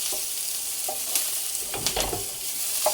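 Onions and rice frying in a pan on the stove, a soft steady sizzle with a few scraping stirs and light clatters near the end, no talking.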